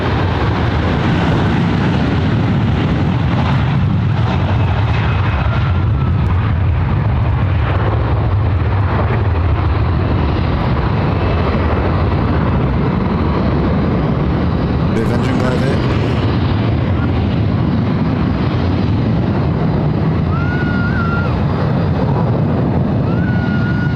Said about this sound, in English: Here comes Szechuan Airlines.